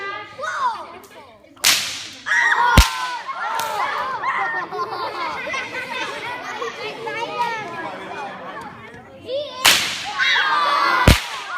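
A bullwhip, Indiana Jones style, cracks sharply several times, loud snapping reports spaced apart over a steady murmur of chattering onlookers.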